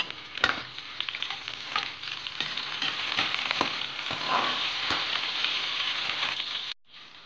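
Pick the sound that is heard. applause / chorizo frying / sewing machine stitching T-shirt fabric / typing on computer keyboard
chorizo frying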